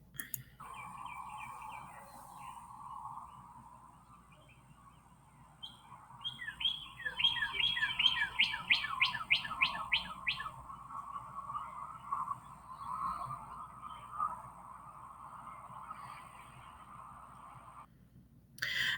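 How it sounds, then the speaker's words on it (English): A northern cardinal sings a quick repeated phrase of rising notes and gives short sharp chip calls, several in a row, fairly faint against a quiet steady background. "Its song can be described as a quick and lively birdie, birdie, birdie. It signals danger with a loud, short chip."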